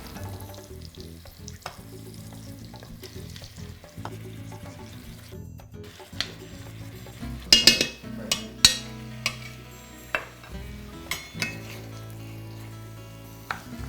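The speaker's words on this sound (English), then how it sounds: "I've just put my squash in here and I'm just mixing it around with the onions" Squash and onions crackle and sizzle in a pan while a utensil scrapes and clatters through them, with several sharp knocks during the stirring.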